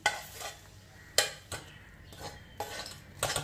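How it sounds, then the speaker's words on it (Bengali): Dudh puli filling made for a Poush Parbon pitha recipe, sweetened with nolen gur, being poured and scraped from a pan into a bowl, giving scattered clinks of metal against metal and soft spooning scrapes close by. "এরপর একটি বাটিতে ঢেলে নেওয়া হচ্ছে"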